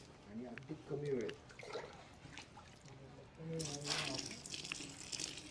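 Water being poured into a homemade organic farming fertilizer mixture gives a soft, hissing splash in the latter half, faint overall and under someone talking throughout.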